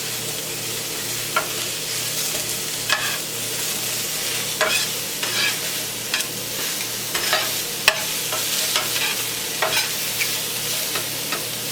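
Vegetables sizzle steadily in extra virgin olive oil in a pan for a quick pot pie, with a constant frying hiss broken by intermittent scraping stirs and clicks.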